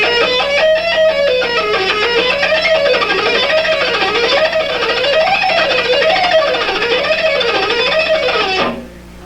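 Electric guitar picking a six-note-per-string scale exercise slowly, ascending and descending while shifting between two positions, with palm muting at the bridge; a steady, even stream of distorted notes in a wavy up-and-down pattern that stops abruptly near the end.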